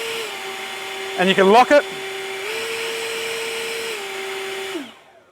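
An Ego 56V commercial backpack blower runs at full trigger turbo, giving a steady, loud whine that holds, shifts pitch slightly, then winds down at the end, with a person speaking briefly over it.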